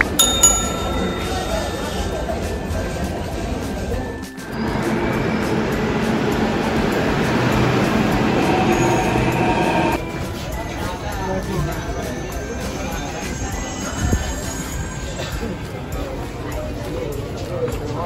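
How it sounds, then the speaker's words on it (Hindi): Busy indoor Delhi metro station ambience with a rumbling train passing through the middle, plus chimes and general crowd noise around it. "अभी मैं मेट्रो स्टेशन हूँ।"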